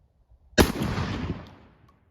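A Rock Island VR80 12 gauge shotgun fires one loud, sharp blast outdoors, followed by a rolling echo that fades over about a second.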